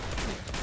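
Short burst of gunshots from the action game Uncharted 2, a brief, moderately loud volley of shots with no talking.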